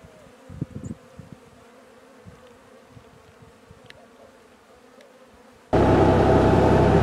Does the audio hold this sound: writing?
no